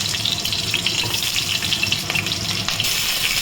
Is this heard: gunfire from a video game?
no